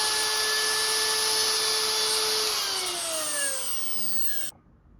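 A high-speed 30,000 rpm rotary tool and an old Soviet drill boring into hardened steel give a steady, loud high-pitched whine. The pitch slowly sags as the bit loads up, and then the motor cuts off abruptly near the end.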